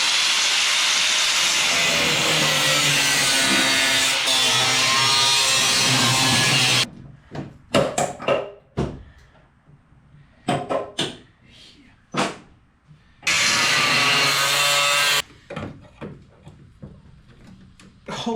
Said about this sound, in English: we're gonna get a grinder with the cutoff wheel and slice these guys off